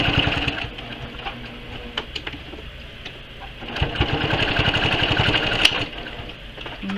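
A Brother PQ1500SL sewing machine runs straight stitches, its rapid, even mechanical chatter close and moderately loud, easing off midway and then picking up again.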